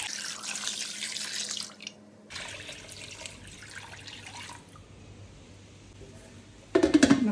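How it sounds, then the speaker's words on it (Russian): Cold water runs steadily from a tap into a pot, its pitch shifting as the vessel fills, then a short clatter at the end. "Заливаю холодной водой."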